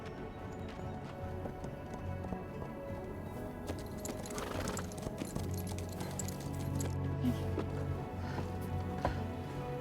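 Horses' hooves clip-clop steadily at moderate distance in a western film scene, a continuous rhythmic clatter over a busy background of music and ambience, with no talk.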